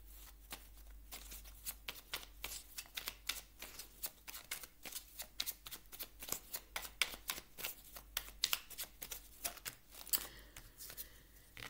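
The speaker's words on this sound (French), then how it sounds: "Je vais vous prendre une dernière carte ici du petit oracle de la mission de vie." Oracle cards shuffled by hand, a dense run of crisp riffling flicks and taps repeating steadily for the full stretch, close and fairly quiet with no voices.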